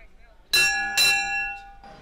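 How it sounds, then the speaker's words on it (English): At the end of a polo match in Melbourne, Australia, a bell rings out in two bright, ringing strokes that hang briefly before fading. "The whistle goes, the bell goes"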